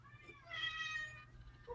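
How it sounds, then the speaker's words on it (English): A cat meows once, a short tonal call in the middle, fairly faint and distant over a quiet indoor background, with soft room noise around it. "that was Crush just meowing now too."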